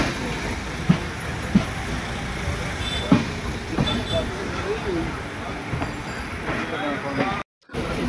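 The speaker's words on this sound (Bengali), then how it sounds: "তো ট্রেন ঢুকে গেল সাঁতরাগাছি।" A passenger train pulls into Santragachi station, its low rolling rumble and rattling clanks steady and close, with a crowd of waiting passengers murmuring around it.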